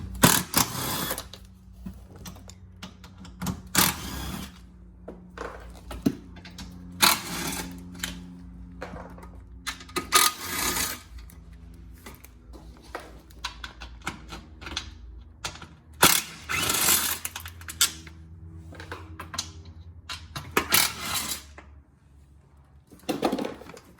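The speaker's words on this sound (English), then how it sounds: "Just take a 10 millimeter socket to remove them." A 10 mm socket ratchet works skid plate bolts loose on a Fiat 500 Abarth, producing repeated bursts of rapid mechanical clicking separated by short quiet gaps, close up with no speech.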